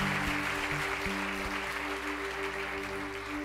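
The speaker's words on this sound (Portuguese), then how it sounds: "Então vamos aplaudir o Senhor" A Sunday church congregation claps in praise, a continuous wash of hands over a sustained low musical drone, fairly even and moderately loud with no talk.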